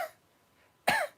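A single sharp cough, close and fairly loud, breaking a stretch of near silence.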